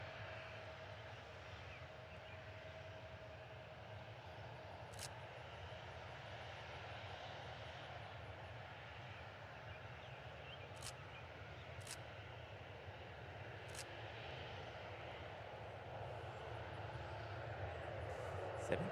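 An American Airlines jet at Reagan National Airport rumbles with a steady, distant engine drone that builds slightly toward the end, with faint voices underneath.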